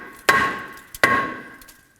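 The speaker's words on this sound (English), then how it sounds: "we're going to go ahead and tap around this area to break it loose from the hub" Two sharp metallic hammer blows ring out about three-quarters of a second apart, each striking a rear brake rotor on a 2016-2020 Kia Sorento 2.4L to free it from the hub, with a brief lighter tap just before the second.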